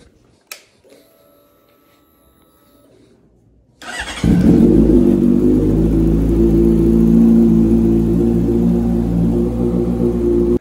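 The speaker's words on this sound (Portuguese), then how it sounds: "já deixei a moto esquentando aqui" After a quiet stretch with a faint tap, a Honda Hornet motorcycle engine starts and settles into a loud, steady idling rumble while warming up, continuing to the end.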